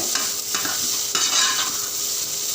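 Potatoes being stirred and sautéed in a pan, a loud, continuous sizzle broken by a few scraping strokes of the spoon, close by and with no talking.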